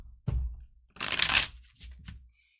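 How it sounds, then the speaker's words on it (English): Tarot cards being shuffled by hand, a few short papery riffles and crackling bursts at close range, separated by brief pauses. "Still not shuffling my cards correctly. Okay, now I am."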